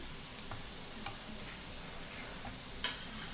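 Onions fry in a pan with coriander added, giving a steady high hiss of sizzling. A few faint clicks and taps from stirring sound over it.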